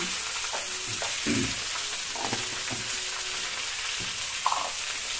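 A spatula stirs cabbage curry with salt and turmeric in a pan, giving a steady sizzle with repeated scraping and clacking strokes up close.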